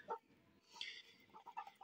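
Chickens cluck in short faint bursts, a few brief calls from a rooster's flock spaced unevenly, quiet and fairly distant, with no talk.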